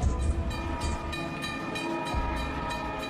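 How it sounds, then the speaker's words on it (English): A passenger train rolls along the rails with a rhythmic clatter of wheels over track joints and a rumbling low drone. It sounds moderately close and continues steadily throughout, with no talk. "Emergency fuel gets passenger trains rolling again."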